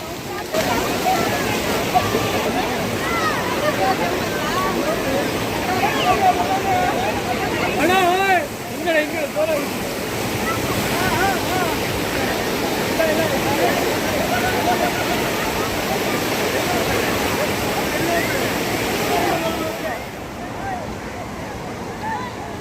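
Husur Falls waterfall near Jog Falls roars as a steady, dense rush of falling water close by, broad and unbroken throughout, with a brief dip near the end.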